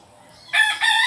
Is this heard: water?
no